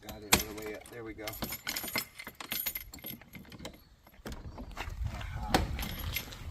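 Keys jangling and clinking while a castle door is unlocked, producing bright metallic rattles in bursts, close by, mixed with a voice talking and some thumps.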